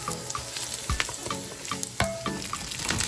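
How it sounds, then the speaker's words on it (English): Garlic sautés on the stovetop with a continuous bright sizzle, dotted with sharp pops and a couple of utensil clinks, close and fairly quiet with no voices. "We're going to start off by sauteing the garlic until it's fragrant, a little translucent,"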